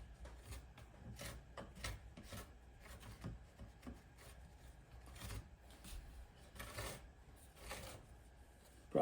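Ballast being rubbed and worked into model railway track, a quiet, irregular dry scraping and rasping with repeated short strokes, close up and alone.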